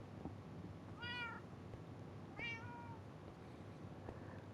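Pet cats meow in the video game Minecraft, two short separate meows about a second apart, quiet against a soft low background hum, with no talking.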